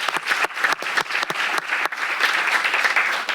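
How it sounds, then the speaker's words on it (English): A room full of people at a city council special meeting breaks into applause, dense and fairly loud clapping with a few sharper claps standing out near the start before settling into an even roar. "Let's give them a round of applause."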